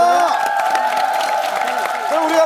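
Studio audience on a Korean variety show claps and cheers in a steady, dense wash, with voices woven through the noise.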